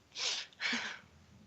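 A single sneeze, close and fairly loud, with a sharp intake followed by a forceful burst, then quiet.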